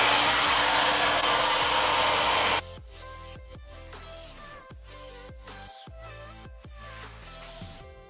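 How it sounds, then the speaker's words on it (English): A hair dryer blows loud and close while drying freshly highlighted brown hair, a steady whooshing roar that cuts off abruptly after about two and a half seconds, leaving quieter background sound. "I'm gonna blow dry and see what the color looks like."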